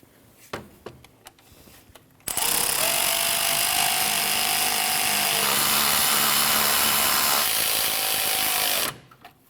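A power tool runs to tighten the thermostat housing bolts on a 2012-2016 Honda CR-V 2.4L four-cylinder, with a few faint clicks first and then one loud continuous whirring burst lasting about seven seconds before it abruptly stops.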